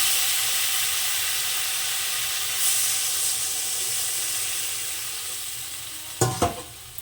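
Water poured into a ridge gourd and potato curry sizzling in a pan, a steady hiss of frying that swells briefly then settles, with a couple of sharp clinks of a utensil near the end.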